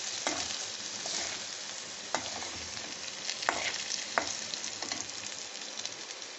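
Carrots and semolina fry in ghee for rava upma, stirred steadily with a spoon: a continuous close sizzle broken by several sharp scraping clicks against the pan, with no voices.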